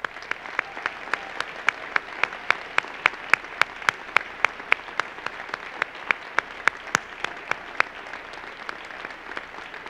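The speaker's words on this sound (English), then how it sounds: "I'd like to offer one more round of applause for this year's award recipients and our amazing class" Sustained applause from a school honors night audience for award recipients, with one close, sharp clapper keeping a steady quick beat over the dense wash of the crowd.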